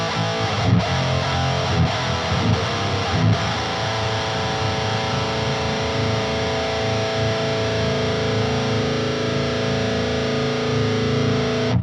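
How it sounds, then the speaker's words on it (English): Heavily distorted electric guitar through a blend of a Peavey 6505 and a Mesa Dual Rectifier boosted by a Fortin 33, dense chugging rhythm riffs played loud and continuous with brief stops between phrases. "This is a blend of a 6505 and a Mesa Dual Rec. And a Fortin 33 boost in there as well"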